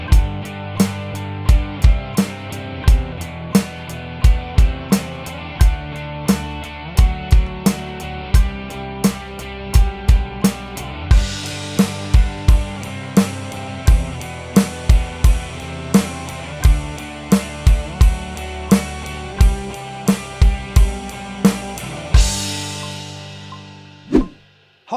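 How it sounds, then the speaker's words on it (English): Drum kit played alone to a backing track, shifting from tight closed hi-hat into ride cymbal after a crash, with steady kick and snare hits throughout and another crash near the end. "I'm going to transition with the crash into the final 4 bars on the ride cymbal using rhythm"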